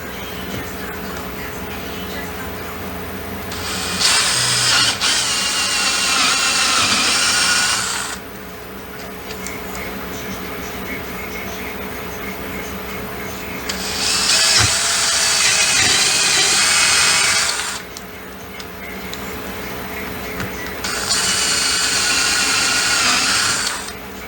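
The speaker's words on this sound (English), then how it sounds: "I'm going to drill a 3/16 hole right through the center of this frame" A power drill whirs loudly in three separate bursts of several seconds each, drilling a 3/16-inch hole through a wooden sliding door frame, with quieter humming gaps between them.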